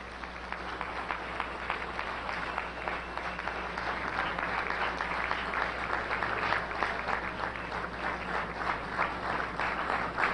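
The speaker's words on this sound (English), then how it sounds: "let us give a warm round of applause for our brother, Brother Kwame Ture." Warm audience applause for a speaker at a lecture, a dense, continuous clatter of many hands at moderate level that swells slightly and holds steady for about ten seconds.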